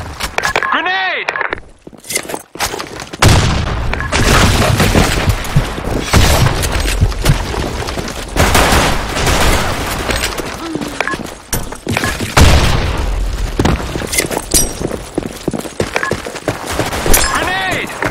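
Grenade blasts and gunfire fill a video game battle, repeated heavy booms and crackling bursts layered loudly throughout, with voices shouting over the action.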